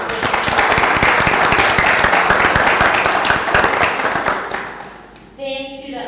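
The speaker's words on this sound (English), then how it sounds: "we can give a round of applause." A room full of guests at an event at the Oak Lounge, Avontuur Estate, applauds loudly and steadily for about five seconds, then the clapping fades out and a voice begins.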